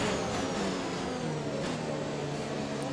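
Race car engine revving at a full start, a steady loud mid-pitched drone that holds its pitch throughout, with no voices.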